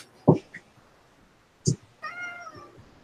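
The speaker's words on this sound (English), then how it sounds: "here comes a putty cat" A house cat meows a few times nearby: two short calls early on, then a longer, clearly harmonic meow near the end, each standing alone against a quiet room.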